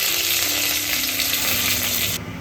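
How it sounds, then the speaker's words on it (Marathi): Mustard seeds and curry leaves sizzle and crackle in hot oil as a tempering for sambar, a loud close frying hiss that continues steadily before dropping off abruptly near the end. "तर आता सांबारला मी फोडणी देते. इथे मोहरी घातलेलं आहे, कढीपत्ता घालूया"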